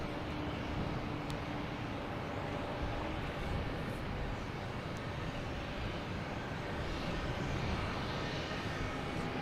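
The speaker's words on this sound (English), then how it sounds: "That's a Aer Lingus coming in from Dublin, an A330." An Aer Lingus Airbus A330 jet arriving from Dublin to land at Boston Logan Airport, heard as a steady, distant broadband engine roar that holds evenly throughout, with no talk over it.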